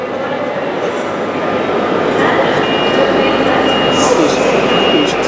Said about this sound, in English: This is the third set that's just pulled into London Paddington.